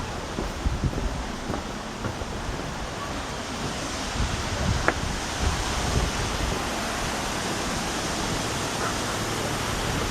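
A waterfall in Cuyahoga Valley National Park, a constant broad rushing wash of falling water heard up close, steady and even for the whole stretch with no speech.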